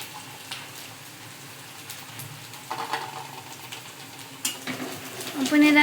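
Ginger-garlic paste is mixed into fried onions in a pan, with faint sizzling and a few sharper scrapes and clinks of a spoon against the pan, quiet overall.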